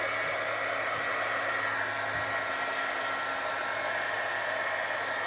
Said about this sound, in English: I am gonna shoot this with the dryer.